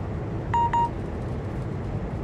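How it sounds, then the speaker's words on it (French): Two short electronic attention beeps warning of a neutral section on a 320 km/h high-speed line, heard from the cab of an ICE 3M (BR 407 Velaro D) in the Zusi 3 train simulator game, sounding in a quick pair over steady running noise. "là, on a le bip d'attention pour le sectionnement"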